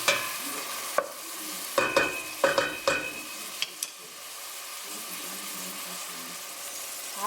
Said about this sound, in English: I just mix it around to get it spread evenly so that it can all cook